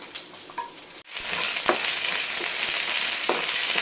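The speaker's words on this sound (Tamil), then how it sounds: "கொஞ்ச நேரம் இதில் நல்லா கொதிக்கட்டும்" Curry simmers and sizzles steadily in a pan, a loud continuous hiss right up close, following a brief clatter.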